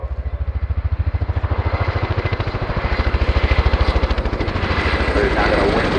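RAF Boeing Chinook HC.6 helicopter at a flying display, its loud, rapid rotor thudding pulsing steadily and growing stronger, with a public-address voice talking over it.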